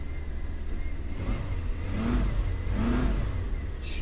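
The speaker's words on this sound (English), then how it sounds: "This thing's still got a lot of power. Just barely pushing on the gas" A 1984 Dodge van with an old Chrysler engine revs under light throttle, a steady low rumble rising in two brief swells while the van moves, fairly close and with no talk.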